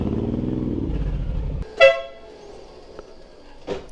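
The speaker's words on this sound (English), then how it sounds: "I just honked for fun" A Suzuki M109R motorcycle horn gives one short loud honk after the idling engine cuts out, followed by a fainter second toot a moment later.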